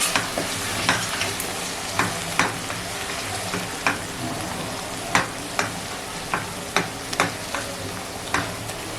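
Garam masala and turmeric being stirred into drumstick vegetable (shevga) in a pan, a spoon scraping in repeated sharp strokes over a steady soft sizzle, close and alone.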